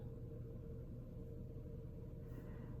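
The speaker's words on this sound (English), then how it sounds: "And you can hear the laundry going too" A laundry machine runs somewhere in a home, giving a steady low rumble and hum that stays constant and unbroken throughout, with no voices over it.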